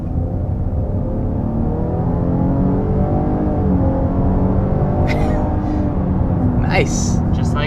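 A 2022 Chevy Blazer RS accelerating up to 60 mph, with a steady, loud engine drone and rising road noise throughout, heard from inside the cabin, with brief higher sounds near the end.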